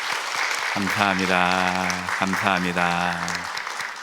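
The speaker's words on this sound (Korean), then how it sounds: "우리 박수로 환영하도록 하겠습니다." A church congregation applauds in welcome during a Sunday worship service, steady dense clapping throughout while someone speaks over it into a microphone.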